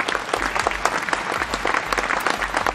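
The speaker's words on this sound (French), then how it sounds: "On applaudit." Close, loud applause from a small group, with brisk overlapping claps in a steady dense patter throughout.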